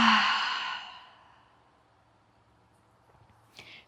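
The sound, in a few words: long exhale out the mouth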